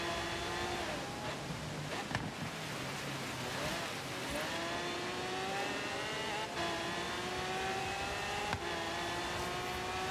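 Car engine at full throttle in Forza Horizon 3 on snowy, icy mountain roads, a loud, rising rev that climbs through gear changes with brief dips and thumps, continuous and close, with no talking.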